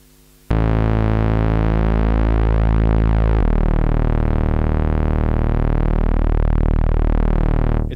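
A sustained buzzy single-voice bass patch on a Prophet 6 synthesizer, two saw waves, plays alone, steady and loud, shifting to a lower note partway through before cutting off.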